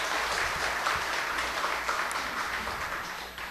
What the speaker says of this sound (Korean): 우리 함께 박수하면서 위로하고 하나님께 영광 돌리겠습니다